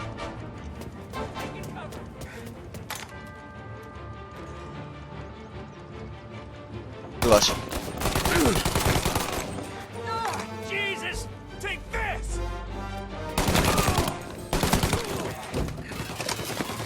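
Pistol gunfire in Mafia 1 Definitive Edition, several sharp shots in bursts over background game music and ambience, with a couple of louder clusters of reports, no talk.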